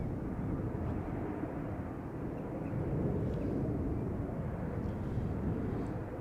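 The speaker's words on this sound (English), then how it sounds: "It's 777-200 landing on the wrong runway." Boeing 777-200 jet landing at Schiphol Airport, a steady low engine roar heard from a distance, sustained and even throughout without voices.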